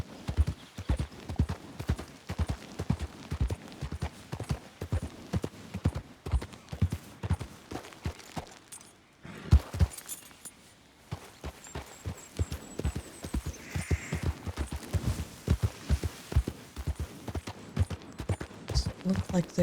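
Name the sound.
horse hooves riding through mud in Red Dead Redemption 2 video game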